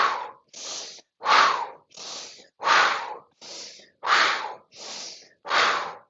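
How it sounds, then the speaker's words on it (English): Deep diaphragmatic breathing during an exercise routine: nine strong, evenly spaced breaths, alternating breathing in and forceful blowing out, close and loud with no talk. "deep diaphragmatic breathing. Think of breathing into your belly and then blowing it all out"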